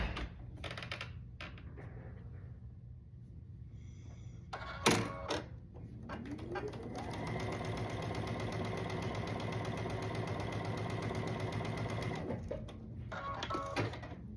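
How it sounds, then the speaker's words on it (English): Sewing machine stitching a quarter-inch seam on quilt pieces for half square triangles, a few short starts and clicks leading into a long continuous whirring run, close and moderately loud with no voices. "down this long side we're going to stitch a 1/4 inch seam allowance"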